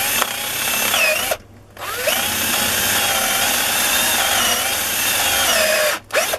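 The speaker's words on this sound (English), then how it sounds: "So I'm just going to drill that down there as parallel as I can get it" A power drill with a 5mm bit bores into a metal part of a vintage Haenel Model 2 air rifle. The motor whines loudly and close by, with the pitch wavering as the bit slips, broken by two short pauses.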